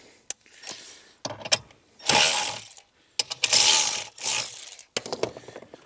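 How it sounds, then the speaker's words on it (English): Ratcheting wrench tightening 10 mm bolts on a Jeep JL Wrangler or JT Gladiator, heard up close as several separate bursts of rapid metallic clicking with short pauses between them. "We get a ratcheting wrench for this because the socket just won't fit in."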